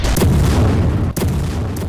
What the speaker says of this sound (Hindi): नॉर्दर्न गाजा के अलजाला इलाके में एयर स्ट्राइक की गई है।